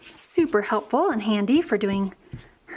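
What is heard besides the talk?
None of the usual background noises is heard.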